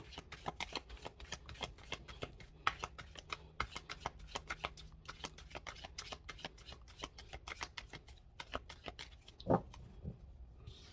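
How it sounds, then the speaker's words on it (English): A deck of tarot cards being shuffled by hand: rapid, crisp riffling and flicking of cards in repeated bursts, close and quiet, with a few louder slaps near the end and no talk. "I'm going to shuffle them twice."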